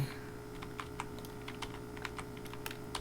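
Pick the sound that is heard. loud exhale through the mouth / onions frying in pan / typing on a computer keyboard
typing on a computer keyboard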